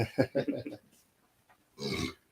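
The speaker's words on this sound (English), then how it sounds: "We're gonna edit that burp out." A single short burp comes near the end of a podcast conversation, a brief rough guttural burst following a few quiet moments after voices speaking.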